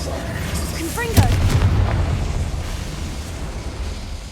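A Confringo blasting spell detonates in Hogwarts Legacy: a sharp burst just past a second in, rolling into a heavy low boom that fades slowly beneath a steady game ambience.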